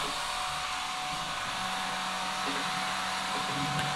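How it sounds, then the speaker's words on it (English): A hair dryer blows continuously nearby, picked up by a computer microphone, a steady loud whooshing hiss with a faint whine underneath. "I am going to turn on this hair dryer"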